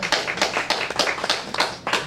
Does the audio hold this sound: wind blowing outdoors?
no